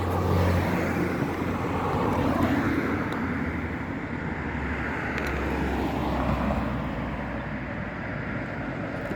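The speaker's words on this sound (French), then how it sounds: "après que toutes ces voitures là sont passées, il y aura encore une bande de voitures derrière" A line of cars passes along a road, making a steady, close broadband roar of tyres and engines that swells gently and never lets up.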